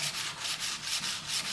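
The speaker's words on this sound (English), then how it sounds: "If anybody ever says to you about sharpening a hammer, that is basically what it's all about." Steel hammer face being ground and sharpened by hand, a rhythmic back-and-forth rasping stroke repeated about seven times in quick, even succession, close and fairly loud with no talking.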